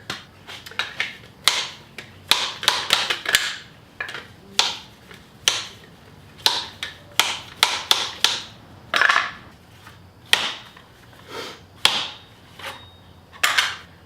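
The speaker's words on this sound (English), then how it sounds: "The next part is driving the seal onto the fork." A motorcycle fork seal is driven into place with a cut PVC pipe and a C-clamp, giving a steady series of sharp, close tapping knocks in uneven bursts, with no talking.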